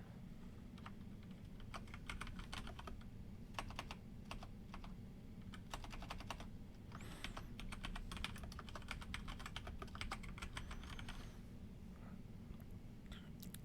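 Steady clacking of a computer keyboard being typed on, with rapid key clicks in irregular bursts over a continuous low room hum, close and moderately loud, no talking.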